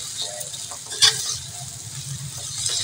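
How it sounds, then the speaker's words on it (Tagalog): Meat sautéing in a pan until browned, a moderate crackling sizzle with soft stirring scrapes and one sharper clatter near the middle, no talking. "igisa lang natin yung ating karne hanggang magiging brown na rin"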